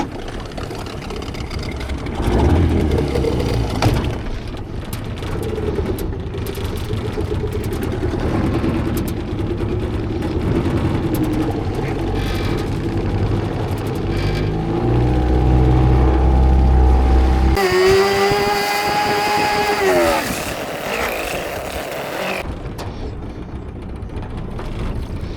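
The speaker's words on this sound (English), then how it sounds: "I'm going to start the petrol motor, go up, pull my underwater camera out, motor back down to the main lake" A petrol motor on a small fishing boat running on a lake, a loud continuous engine drone that rises and shifts in pitch while under way, with a brief harsher whining stretch near the end.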